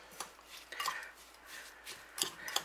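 Brown sugar being stirred into chopped apple for apple custard and walnut muffins, heard as close scraping and clinking of a spoon against a bowl in a few uneven strokes.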